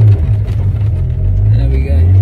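Zenvo supercar engine running steadily up close as it clonks into first gear and pulls away, a loud continuous low rumble with speech over it.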